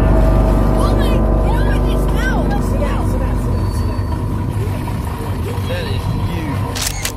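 A boat motor drones loud and steady throughout a crocodile encounter, with someone talking over the engine.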